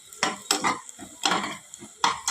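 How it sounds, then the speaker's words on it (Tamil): Sliced large onions are sautéed in a pan for mutton biryani, with a few clattering stirs and scrapes of a spoon against the pan over a faint sizzle. "ரெண்டு பெரிய வெங்காயம் கட் பண்ணி வச்சுருக்கிறேன் அதை போட்டு நல்லா வதக்கலாம்"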